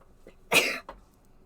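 A single sharp sneeze bursts out close to the microphone, followed by a brief breathy catch, then quiet.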